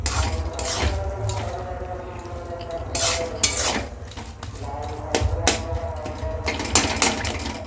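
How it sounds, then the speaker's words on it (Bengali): Carrot halwa being stirred with milk powder in a pan, a spoon scraping and clinking against the metal in repeated close strokes over a soft background sizzle. "গুঁড়ো দুধ দিয়ে ভালোভাবে আমি মিশিয়ে নিয়েছি"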